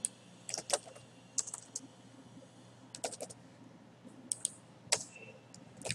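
Rapid clicking of computer keyboard keys while writing code for an HTML form and MySQL database, quiet and close, typed in short irregular bursts with brief pauses and no talking.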